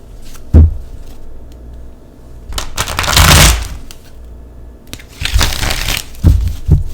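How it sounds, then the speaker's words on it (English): Small tarot cards being shuffled by hand, with a brief rustle early on and two longer riffling bursts later, close and fairly loud with quiet gaps between them. "I was trying to shuffle the little sexual tarot cards"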